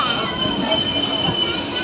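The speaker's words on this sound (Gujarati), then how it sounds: "જો ટ્રેન રૂકી ગઈ, ટ્રેન ઊભી રહી." A train grinds to a stop at a station with a steady high metallic squeal of brakes and wheels, loud and continuous, rumbling underneath.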